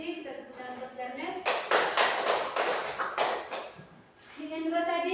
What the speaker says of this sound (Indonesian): Kita tepuk tangan buat Garnet